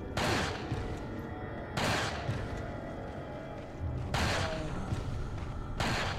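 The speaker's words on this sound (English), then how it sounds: "I'm going to have to use the magnum here." Heavy magnum gunfire in Resident Evil 4, a few loud booming shots spaced apart, each with a long rumbling tail, alone without talk.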